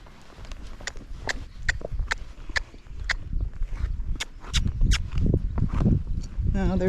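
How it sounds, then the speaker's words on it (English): Horses gallop away across deep grass, a string of sharp hoof thuds in an uneven rhythm from a short distance while the ridden horse shifts nearby. "now their horses are galloping away as he's running backwards"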